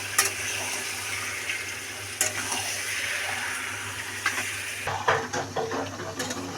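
Desi chicken meat cooking in its own released juices in a pan, a continuous watery bubbling sizzle with occasional sharp stirring scrapes and clinks, louder and busier toward the end.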